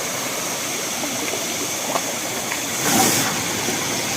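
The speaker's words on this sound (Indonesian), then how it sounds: "berada di sungai yang ini terusan dari sungai-sungai sebelumnya yang pernah kita datangi" A river flows at night after rain, producing a loud, steady rushing wash with a brief swell near the end and no voices.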